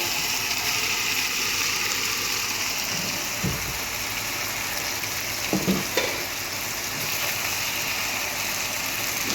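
Chicken pieces sizzle and fry steadily in a hot pan of curry with tomato, a dense continuous crackle with a few dull knocks of stirring partway through.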